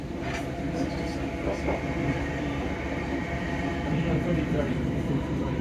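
A Class 455 electric train rumbles along at a steady pace, a continuous low roar of wheels and motors heard from on board.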